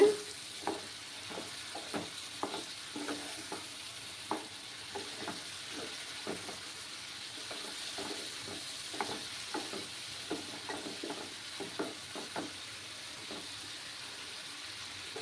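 Papaya and soybean curry sautéing in a pan, a soft steady sizzle punctuated by regular light scrapes and taps of a spoon stirring at an even rhythm, fairly quiet and with no talking.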